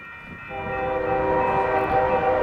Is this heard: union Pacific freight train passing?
yes